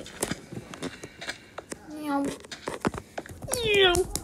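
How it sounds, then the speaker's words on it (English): A cat in the video game Minecraft meows twice, a short mew followed by a longer rising meow near the end, amid scattered clicks and game sounds while a young player talks over it. "Kitty cat."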